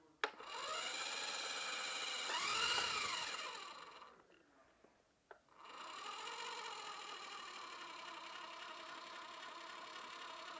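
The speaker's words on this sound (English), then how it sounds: "Jet engines can be loud." A jet engine on display at the Smithsonian whines with a steady high-pitched tone and shifting harmonic sweeps. It falls nearly silent around four seconds, then a click sounds and the whine resumes, faint overall.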